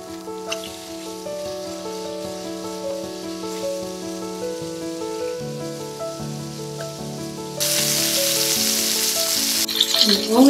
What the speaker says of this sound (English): Next, we'll pan fry until it's crisp at the bottom.